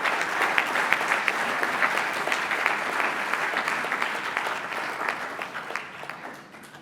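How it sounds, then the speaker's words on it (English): An audience at an awards ceremony applauds, a sustained dense clatter of many hands clapping that fades slightly toward the end, with no speech over it. "applause."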